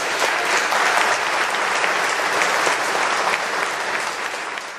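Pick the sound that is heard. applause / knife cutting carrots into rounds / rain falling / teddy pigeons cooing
applause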